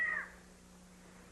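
A single short cat meow at the very start, close and clear, then it fades into a quiet room with a low steady hum.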